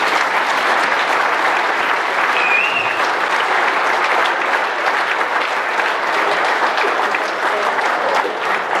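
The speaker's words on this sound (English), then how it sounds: "a special round of applause to Harry Gregg" A dinner audience gives a sustained round of applause, dense and loud throughout the room, with crowd noise mixed into the clapping.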